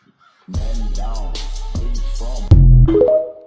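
Crows caw in a short series of loud, close, harsh calls, ending with a sharper burst of noise.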